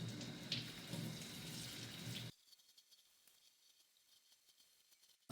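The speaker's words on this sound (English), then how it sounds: "you're going to run water through the shirt until it runs clean" Water runs from a tap through a tie-dyed shirt being rinsed, a steady splashing rush that cuts off abruptly partway through, leaving faint drips and quiet.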